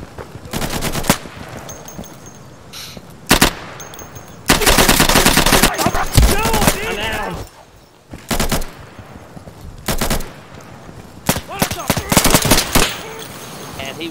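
Gunfire in the video game Insurgency: loud bursts of automatic weapon fire and single shots come in irregular clusters, separated by quieter gaps across the stretch.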